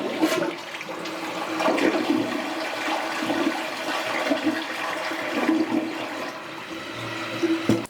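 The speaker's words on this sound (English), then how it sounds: "And now here's a longer flush, holding down the handle." A toilet flushed with the handle held down for a longer, stronger flush, water rushing steadily and loudly for several seconds close by, with gurgling swells throughout.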